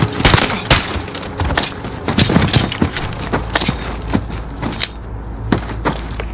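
Rapid gunfire in the video game Call of Duty Modern Warfare: loud, close bursts of automatic fire and single shots cracking out over several seconds, with a brief lull near the end before more shots.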